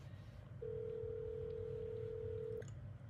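A hotel room telephone emits a single steady tone lasting about two seconds, loud and close against a low background hum, then cuts off with a brief click.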